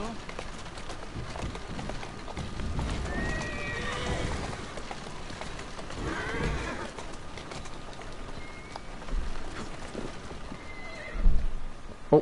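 A horse in Assassin's Creed Syndicate whinnies several times amid steady hoof clip-clop and background game ambience, with a louder thump near the end and no talk.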